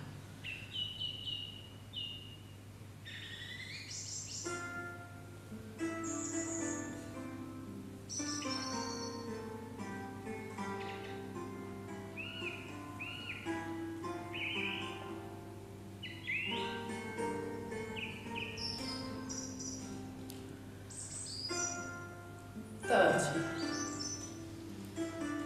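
Gentle music with birdsong playing during a Chen style T'ai Chi class: soft sustained tones under bright, repeated chirps and warbles, steady and calm throughout, with a faint low hum.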